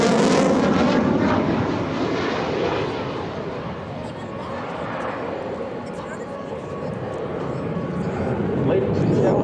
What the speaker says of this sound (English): From your right, the F-16